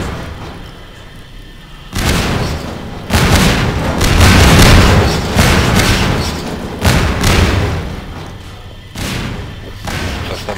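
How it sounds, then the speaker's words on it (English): A loud, booming explosion bursts from a tank in the Half-Life 2 video game, followed by repeated heavy thuds and rumbling blasts that rise and fall for several seconds, with no talking. "I don't know what happened to cause that explosion, or that first tank to ignite."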